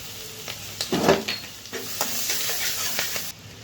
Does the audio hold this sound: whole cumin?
yes